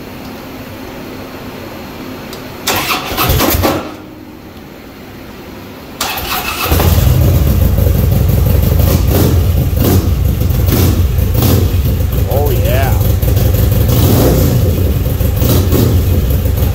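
A 2009 Harley-Davidson Ultra Classic CVO touring motorcycle cranks, fires up and settles into a loud, rumbling idle with occasional revs, heard up close in a garage; someone briefly speaks before it starts.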